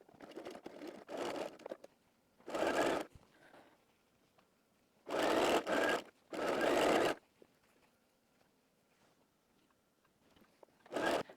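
Sewing machine running a straight-stitch seam on knit fabric, several separate bursts of fast whirring stitching, each one to two seconds long, with quiet pauses between.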